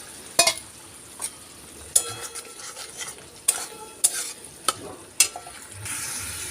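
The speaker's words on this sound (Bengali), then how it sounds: "মশলাতে হালকা একটু জল দিয়ে আমি খানিকক্ষণ কষিয়ে নেব। এর মধ্যে আগে থেকে ভেজে রাখা আলুগুলো দিয়ে দিলাম।" Fried potatoes are stirred into a spice masala with a little water in a pan for a pangas fish curry, a low sizzle broken by repeated sharp clinks of a metal spoon against the pot.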